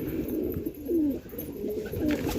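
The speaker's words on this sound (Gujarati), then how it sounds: "તમારા કબૂતર ઘૂકતા છે" Pigeons coo in a soft, repeated low rhythm, several throaty calls rolling one after another at close range with no talk over them.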